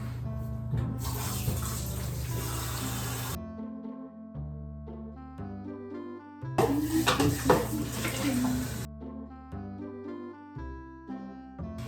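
Dishes are washed at a kitchen sink in a home in Japan, with two long bursts of running tap water and clinking of dishes and cutlery under steady background music.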